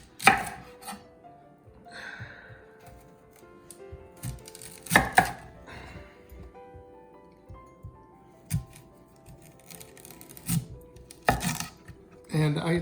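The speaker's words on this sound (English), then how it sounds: "For this, we're just going to give us about 1/4 inch slices of fennel." A kitchen knife slices fennel into quarter-inch pieces on a board while chicken with orange, fennel and leek is prepared, giving scattered, sharp, irregular chops that are close and distinct over a quiet background.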